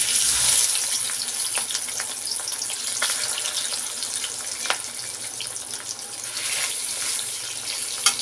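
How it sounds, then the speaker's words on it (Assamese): Fish pieces frying in mustard oil in a wok: a steady hiss with crackling spits and pops scattered throughout, fairly loud and close, without any talking. "এয়া মই কেৰাহীত সৰিয়হৰ তেল লৈ লৈছোঁ আৰু এতিয়া ইয়াত মই মাছকেইডোখৰ ফ্ৰাই কৰি ল'ম।"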